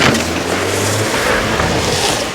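A car grinds up a snowy mountain road on the Spiti to Manali route while people push it from behind, its engine a loud, steady drone throughout.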